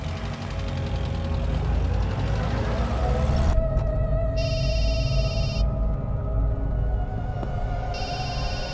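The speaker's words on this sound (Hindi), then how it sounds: "किसका फोन है" Telephone ringing in a Hindi-dubbed action thriller film, electronic trilling rings in repeated bursts over a dense, steady background rumble.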